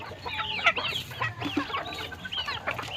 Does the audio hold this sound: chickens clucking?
yes